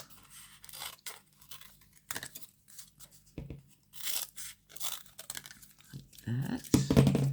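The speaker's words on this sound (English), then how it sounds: "I'll just cut those off. And cut this one off." Paper stamps are snipped off with scissors in a crafting session, a series of close, crisp cuts and rustles of paper with pauses between, while a person talks briefly over them.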